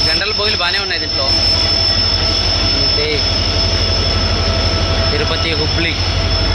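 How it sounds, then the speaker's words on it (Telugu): A diesel-hauled Tirupati–Hubli express pulls out of Gooty station on the Guntakal line, loud and close, with a steady rumble, rolling wheel clatter and squealing wheels, while voices talk over the noise. "ట్రైన్ పోతుంది, ఓకే. పచ్చ జెండా ఊపేశారు."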